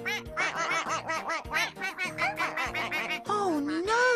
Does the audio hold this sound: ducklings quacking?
yes